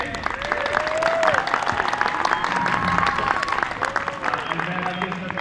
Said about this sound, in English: Round of applause for everyone that's here today.